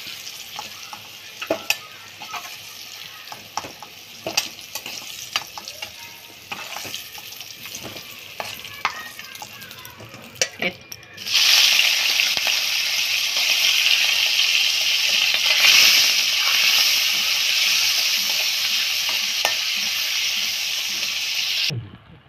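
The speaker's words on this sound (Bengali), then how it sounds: "মাছটা ভাজা হয়ে গেছে, চিংড়ি মাছটাকে তুলে নেব।" Prawns frying in oil alongside pointed gourd in a home kitchen, first with sparse crackles and stirring, then a sudden loud, steady hissing sizzle that continues close and strong to the end.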